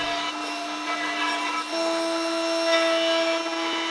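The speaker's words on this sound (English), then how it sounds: "I took the box to the router table and used a roundover bit on the top and bottom edges" A loud, steady high-pitched whine of a power router cutting wood, its tone shifting slightly partway through, close and continuous.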